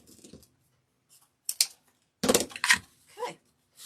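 Scissors snip the tail of 10-inch wreath mesh, producing a few short, close cutting and crinkling bursts separated by silent gaps.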